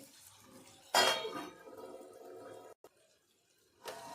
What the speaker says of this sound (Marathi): दोन मिनटासाठी मी याच्यावरती झाकण ठेवून देते